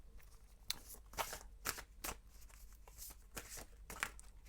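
Oracle cards shuffled by hand during a tarot reading, a close series of papery riffles and soft slaps with brief gaps between them, fairly quiet and with no talking.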